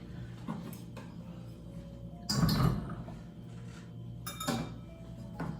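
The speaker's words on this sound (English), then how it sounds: "3 tablespoons of melted butter. And we're going to whisk that in as well." Melted butter being whisked into thin popover batter: soft metallic clinks and scraping against the bowl, with two brief louder bursts of whisking, close by and without speech.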